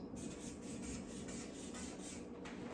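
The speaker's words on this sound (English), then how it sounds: "So I'll give the S some zigzag lines." A pen rasps softly and steadily across paper while drawing zigzag lines on a lettered drawing, a quiet continuous scratching with slight back-and-forth pulses.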